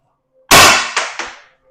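A single loud, close test shot from a Defense Innovations DI.68 paintball marker, a sharp burst followed by two quick echoing reflections that fade in about a second.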